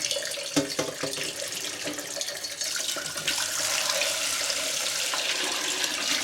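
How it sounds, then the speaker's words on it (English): Hot water pours steadily from a tap into a saucepan, a continuous close splashing gush with a few clinks at the start, the rush thickening slightly as the pan fills. "put some hot water in it"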